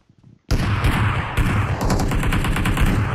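Shotgun fire in the mobile battle-royale game PUBG Mobile: loud, close blasts erupt suddenly after a brief quiet moment, then keep coming as a dense, rapid string of shots without speech.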